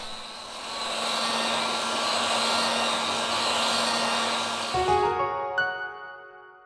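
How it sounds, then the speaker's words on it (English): A heat gun blows hot air onto a Xiaomi Mi Mix 2S smartphone to soften the adhesive on its back battery cover, a steady loud whoosh that cuts off near the end, followed by a few faint clicks. "We apply heat to the device to remove the battery cover."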